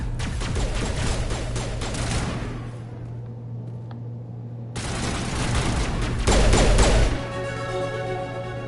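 Gunfire in the Mass Effect video game: dense bursts of rapid shots and crashing impacts, loud and continuous, with a brief lull before another heavy volley.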